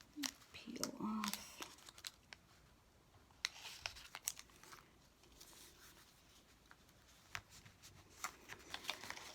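Paper backing peeled off glue dots during a Valentine's Day take-and-make craft: close, crinkly rustles with sharp ticks and brief tearing bursts, mostly in the first two seconds, with a little talk early on.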